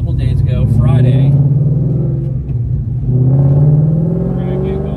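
Ford Mustang being driven, a loud close engine drone that rises in pitch through two acceleration pulls with a dip between, heard from inside the car under occasional talking.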